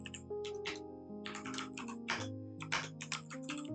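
Rapid typing on a computer keyboard while writing code, with bursts of close, crisp key clicks separated by short pauses over a low steady background tone.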